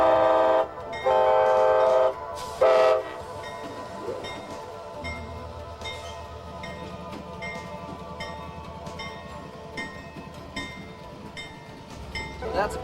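Several loud blasts from a train horn ring out in the first three seconds, then a train engine rumbles steadily underneath with faint bell-like tones and people talking in the background.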